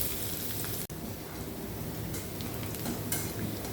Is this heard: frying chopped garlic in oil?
yes